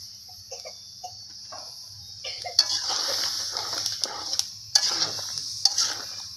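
Mixed vegetables go into a pan of fried spice paste. The pan is quiet at first, then settles into a soft, steady sizzle broken by sharp clinks of the stirring spoon, with a faint high insect-like whine throughout.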